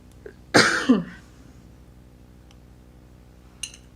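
A single harsh cough up close, a couple of quick bursts, then quiet room tone with a faint tick near the end.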